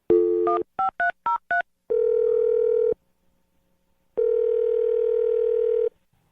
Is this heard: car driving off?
no